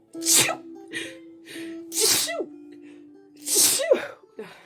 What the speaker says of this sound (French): Là, je vais éternuer, attendez.